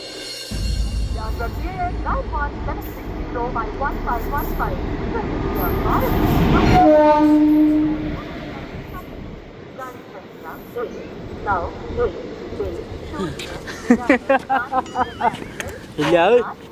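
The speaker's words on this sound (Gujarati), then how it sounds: "આ ટ્રેન થઈ ને વીઆઈપી ટ્રેન છે" A train rumbles past loudly for several seconds, then cuts off abruptly, leaving people talking with brief clattering and faint background noise.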